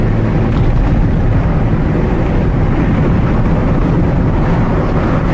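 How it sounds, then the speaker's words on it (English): A 1000cc fuel-injected 16-valve petrol engine runs steadily and loud, a dense low rumble with broadband roar heard from close by, no voices present. "This engine, by the way, people, it's 1000cc, but it's fuel injected, 16 valve."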